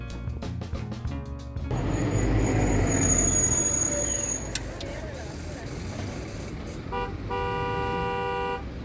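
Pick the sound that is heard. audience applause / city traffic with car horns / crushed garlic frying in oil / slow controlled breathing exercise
city traffic with car horns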